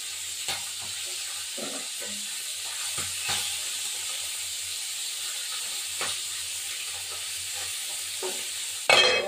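Singhi fish frying in hot oil in a home kitchen, a steady hiss with scattered sharp pops and spatters, loud and close, with a sudden burst of louder crackling at the very end.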